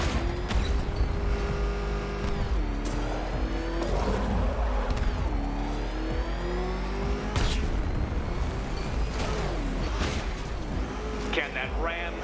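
A ramshackle car engine racing in a Batman video game, loud and close, revving up and down continuously, with booming impacts and skids over it.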